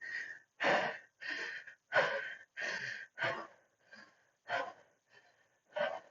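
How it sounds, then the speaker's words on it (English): Strong, rhythmic breaths during a HIIT workout, each forceful exhale or gasp coming in a steady series with short pauses between, close and clear, no talking. "Getting into that breath."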